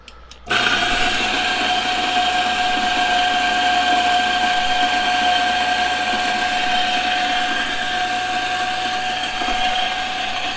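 A Turin coffee grinder grinds espresso beans, a loud, steady motor whine with a gritty crunch that starts abruptly after a brief quiet moment and runs on unbroken close up.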